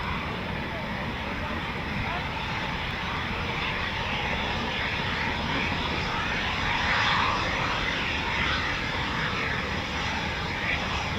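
A Eurofighter Typhoon FGR4 jet flying near an RAF station, a broad sustained jet roar that swells slightly partway through, with faint voices talking underneath.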